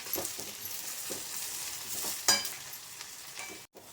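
Two cups of semolina (rava) are stirred and dry-roasted in a pan for rava vangi, giving soft, faint scraping strokes over a low hiss, one sharp clink partway through, and a brief cutout near the end.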